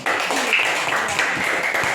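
Students in a classroom applaud together, producing a dense, steady wash of hand claps. It is fairly loud and close, runs continuously for about two seconds, and no one speaks over it.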